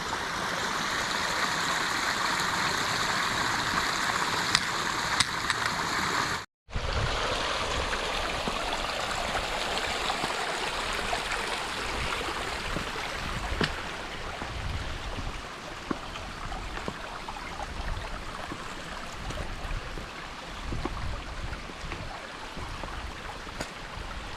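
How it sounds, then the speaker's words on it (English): Water running down a hiking trail along the Appalachian Trail, a steady broadband rush of flowing stream water, close and continuous, with a brief dropout early on and no talking. "we got some more water coming down the trail right up here"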